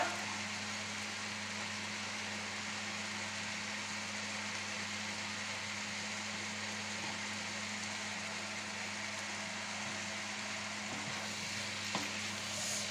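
Pork crépinettes sizzling and frying steadily in a pan while being stirred, a continuous close crackle with a low hum underneath and no talk.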